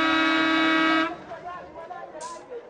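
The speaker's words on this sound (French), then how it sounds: "Qui klaxonne comme ça?" A long, steady car horn blast sounds for about a second at the start, loud and close, then cuts off, leaving muffled crowd and room noise behind it.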